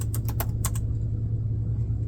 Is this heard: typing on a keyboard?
yes